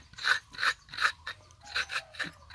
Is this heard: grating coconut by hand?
yes